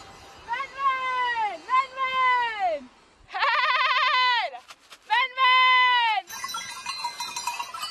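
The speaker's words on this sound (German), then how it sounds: "Unterhalb ist ein Schaf," A sheep among goats on an alpine pasture gives several loud, wavering bleats close by, in separate calls with short pauses, followed by softer mixed background noise at the end.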